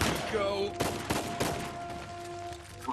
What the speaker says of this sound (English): And they're up top shooting at us.